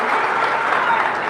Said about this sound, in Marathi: टाळ्या याकरता वाजवू नका, पुढच्या गोष्टी करता टाळ्या वाजवा